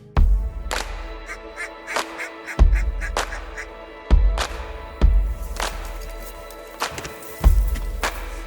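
Wild ducks on the Columbia River, mallards, widgeon and teal, quack and honk in loud repeated calls, some close and some farther off, irregular and overlapping with no talking.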